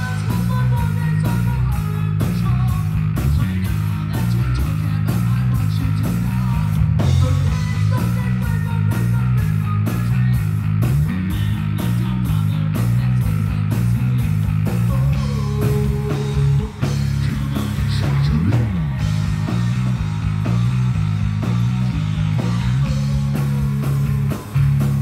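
Harley Benton PJ-5 bass guitar with stock strings, played live at a gig inside a full band mix, with steady deep bass notes under drums and other instruments for the whole stretch.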